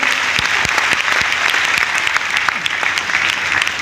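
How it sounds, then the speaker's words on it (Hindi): An audience claps loudly and continuously, a dense wash of many hands with a few sharper individual claps standing out close by, sustained throughout. "चलिए छठी मैया के नाम पर जोरदार ताली होना चाहिए।"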